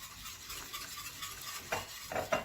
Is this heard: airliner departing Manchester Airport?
no